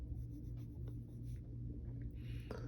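Pencil sketching lightly on paper while drawing the superhero Shazam, a faint, soft scratching of short strokes, close and quiet over a low steady room hum.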